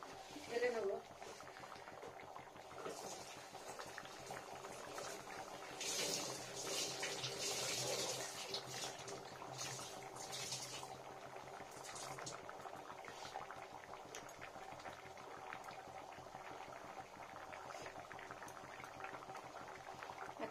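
Mung dal boiling in a pot, a steady bubbling simmer running throughout with a brief louder surge midway, heard fairly close with no one speaking.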